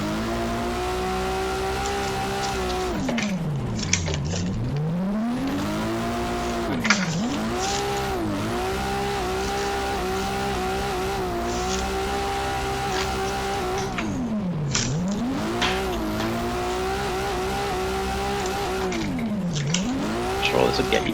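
Drift car in the racing game Drift Masters at Power Park, engine droning and revving in rising and falling sweeps with tire squeal across repeated slides, loud and continuous throughout.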